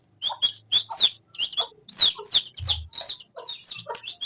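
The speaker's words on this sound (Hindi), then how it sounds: "अब हम अपने चूजे खोल रहे हैं।" Chickens cluck and squawk in rapid, close bursts as chicks are let out of their enclosure, the calls overlapping in a busy, agitated rhythm with a few low thumps underneath.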